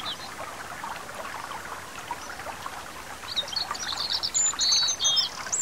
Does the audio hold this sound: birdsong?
yes